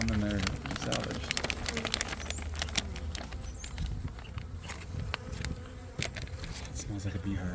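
Honey bees in a hive during an early spring inspection hum in a dense, loud, continuous drone, close up, with scattered clicks and rustles of handling over the buzz.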